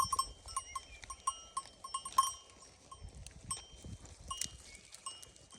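Bells on a grazing Karakaya sheep flock clink irregularly at night, small metallic rings scattered across quiet surroundings, with faint rustling and movement close by.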